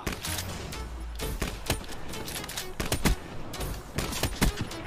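Rapid bursts of video game gunfire from a gun-based shooter crackle in uneven clusters, loud and close, with a few sharp single shots between the volleys and no speech over them.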